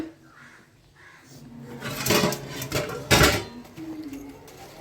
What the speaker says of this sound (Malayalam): ഇപ്പോൾ പാത്രം കഴുകലാണ്